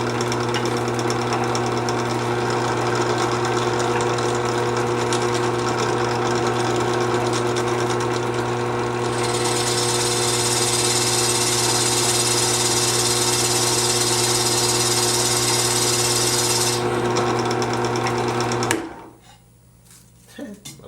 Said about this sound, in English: So we're going to drill this hole first